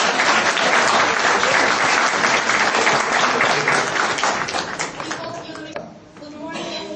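Hearty crowd applause at the Hora Mare folk festival in Slobozia, Romania, loud and continuous for several seconds, thinning toward the end as voices start to come through.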